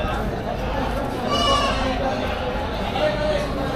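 Goats bleating at a livestock market in the Philippines, a few wavering bleats rising over a constant murmur of chatter and people talking close by.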